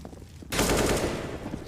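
Gunfire in a Counter-Strike match on Nuke, a sharp shot onset followed by a rapid burst of automatic fire, close and fairly loud, with no talking over it.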